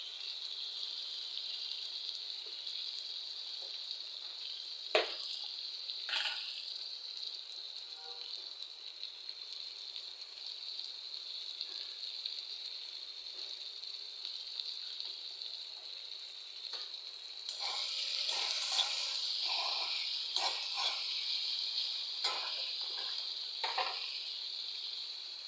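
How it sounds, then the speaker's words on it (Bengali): Onion and garlic fry in a pan for a soybean and potato curry, a steady soft sizzle running throughout with occasional light scrapes and clicks of stirring, a little louder toward the end. "এখন পেঁয়াজটা ভাজা ভাজা হয়ে গেছে"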